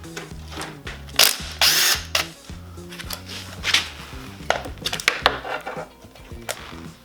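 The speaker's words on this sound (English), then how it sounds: "let's remove this bolt here. It looks like a 12mm bolt." A 12mm bolt being removed from a Toyota Tacoma front differential: a close, loud stretch of power-tool whirring and rapid ratcheting, broken by clanks and brief metallic rattles.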